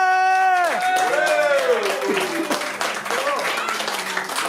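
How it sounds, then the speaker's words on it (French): Audience at a slam poetry night in Nice clapping loudly, with rising whoops and cheering voices riding over a dense patter of hands that continues throughout. "on applaudit très fort Kenny qui s'est sacrifié."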